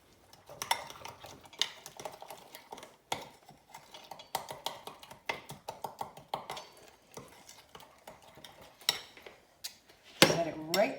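Meatloaf ingredients mixed in a bowl for bacon-wrapped BBQ meatloaf produce irregular clinks and scrapes of a utensil against the bowl, close and fairly loud, in bursts with short pauses and a sharper clatter near the end.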